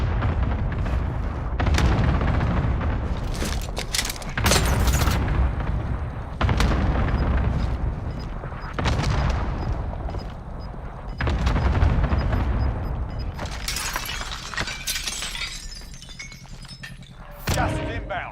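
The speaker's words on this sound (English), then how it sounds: "Bringing down an airstrike." A cluster airstrike in the game Warzone lands as a series of heavy booming explosions, loud and close, repeating in waves across the clip over a continuous rumbling background.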